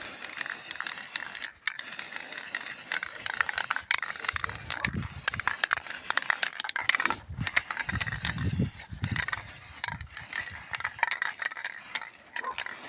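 Aerosol spray paint can spraying while a Christmas tree stand is being made, a steady close hiss in long bursts broken by short pauses, with some clanking handling noises and no talking.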